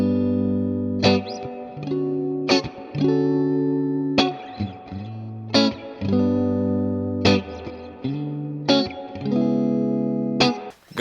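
A clean electric guitar tone with a hint of amp reverb plays a slow sequence of picked chords and notes, each ringing out and decaying before the next, with no talking.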